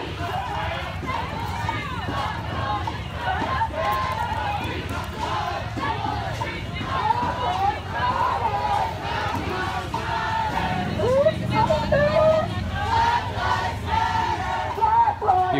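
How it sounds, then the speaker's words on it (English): Marchers at a Black Lives Matter protest in Portland chant in unison, with a couple of different rhythmic chants rolling through a large moving crowd, loud and sustained over background chatter and footsteps. "You can hear a couple different chants now."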